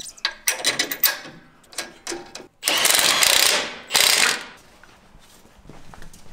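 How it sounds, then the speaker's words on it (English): A ratchet with an 18 mm socket tightens a sway bar link bolt onto the axle of a Jeep JL Wrangler during a 2-inch lift kit install. It gives rapid close clicking bursts and then longer continuous ratcheting runs. "Grabbing our 18 millimeter socket and 18 millimeter wrench, we can now install the sway bar link"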